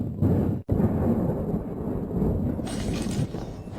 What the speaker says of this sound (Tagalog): Bumabagsak ang salamin.